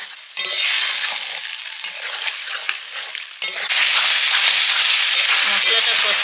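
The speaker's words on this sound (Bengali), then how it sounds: "মশলাটা একটু জল দিয়ে ভালো করে কষিয়ে নিচ্ছি।" Spice paste sautéed with a splash of water for a chicken curry, giving a steady loud sizzle with scraping stirs; the hiss jumps louder partway through as fresh moisture hits the hot pan.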